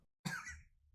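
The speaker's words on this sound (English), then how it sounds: "Sounds more like a cough than a Those sneeze." A pig spirit in the video game Everhood gives one short, close, cough-like sneeze.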